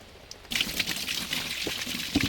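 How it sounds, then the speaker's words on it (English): Water drains and splashes out of a scrap metal container in a yard scrapheap, a quiet start giving way to a steady close trickling pour with small splashes. "It's still draining fucking water."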